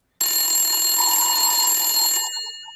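A telephone rings as a sound effect, a bright, steady electronic trill that starts abruptly, holds loud and alone for about two seconds, then cuts off into a short fading tail.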